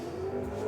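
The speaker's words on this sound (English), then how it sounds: "it's definitely revving a lot better" Mitsubishi GTO twin turbo engine in the Gran Turismo racing game, revving with a steady, continuous drone held at close range for under a second, no talk over it.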